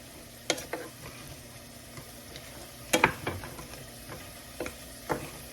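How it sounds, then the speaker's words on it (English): Sweet and sour sauce simmering with meatballs in a pan, a soft continuous sizzle broken by several sharp stirring scrapes and clinks, close and fairly quiet. "This sauce is going to thicken up as it starts simmering"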